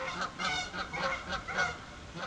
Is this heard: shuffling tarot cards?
no